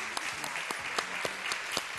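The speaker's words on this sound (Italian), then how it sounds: "dobbiamo fare un applauso forte a Lorenzo e Daniela" Studio audience applause on an Italian cooking show for two chef guests: steady, fairly soft clapping with distinct sharp claps standing out through the texture.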